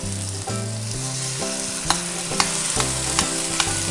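Ground meat for pasta bolognese sizzles steadily in a hot pan over medium heat, a continuous close frying hiss broken by a few sharp spoon scrapes and taps, with no talking.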